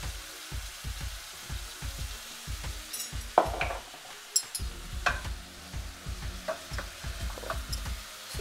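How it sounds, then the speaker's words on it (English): A frying egg seasoned with black pepper, ground thyme and cayenne sizzles in a pan under a rhythmic run of low thumping stirs and scrapes, with a few sharp metallic clinks, heard up close. "So you're gonna wait for the egg to fry up a bit."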